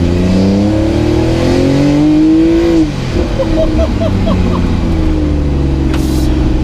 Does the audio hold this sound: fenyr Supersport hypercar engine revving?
yes